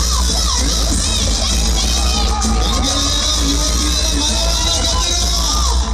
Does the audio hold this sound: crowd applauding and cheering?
yes